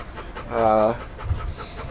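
A dog pants close to the camera in short breathy bursts, mixed with a brief whining tone, while a person talks over it.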